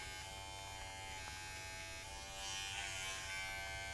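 Electric hair clipper without a guard fading a beard, a steady close high-pitched buzz that grows slightly louder and rougher midway as the blades meet the hair.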